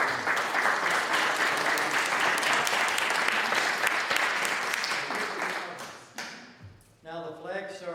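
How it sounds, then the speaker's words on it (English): Loud, dense applause for Sean at a town tricentennial committee meeting, sustained for about six seconds before fading, with a voice starting to speak just after. "So let's put our hands together for Sean."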